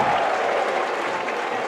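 High school basketball crowd at a North Carolina fourth-round playoff game cheering and applauding after a three-pointer, a dense, steady roar of clapping and shouts that fades slightly.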